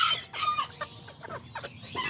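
A serama hen makes a short run of soft, close clucks and chirps, several quick notes in a row, alone with no talk.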